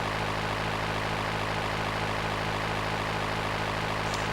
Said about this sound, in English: It's a small clipped winged plane called the Dodo.